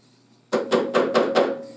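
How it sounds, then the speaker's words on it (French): Five quick, evenly spaced taps of a hammer marking a screw point on a segmented woodturning piece, sharp close knocks with a light ringing tail, following a short moment of near silence. "Un petit coup pour pointer ma vis."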